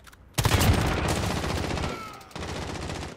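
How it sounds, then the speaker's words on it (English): Sustained burst of automatic gunfire from several players firing at zombies in the video game Infected Warfare, loud and dense. It starts abruptly after a quiet lead-in, dips briefly near the end, then resumes. "We're all just shooting at the same location."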